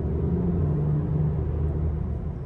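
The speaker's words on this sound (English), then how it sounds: "It's a big truck in the back." Big truck rumbling beside a car on the highway, a steady, loud low-pitched drone that holds throughout without a break.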